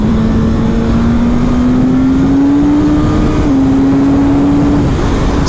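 Suzuki GSX-S 1000 motorcycle with a 1000 cc engine, a loud, close, sustained engine drone whose pitch climbs steadily under hard throttle, dipping briefly before rising again.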